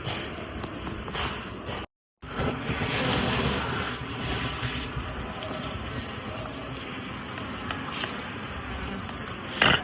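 A steady, dense buzz of honey bees on a bee farm fills the air throughout, with a brief dropout near the start and faint rustling underneath.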